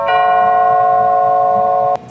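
A wireless doorbell chimes after being fixed: one loud, steady electronic tone that holds for about two seconds and then cuts off sharply.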